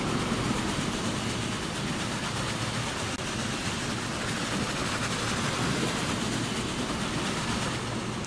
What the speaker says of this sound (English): When she goes 75 miles an hour with a train this long, it is a good feeling.